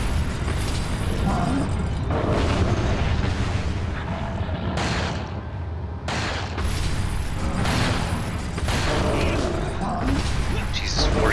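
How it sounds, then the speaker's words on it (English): Heavy Magnum revolver shots from Resident Evil 4 hit hard within a dense, loud game soundscape, with several booming blasts over continuous rumbling action and clanking mechanisms. "four shots with the Magnum isn't enough"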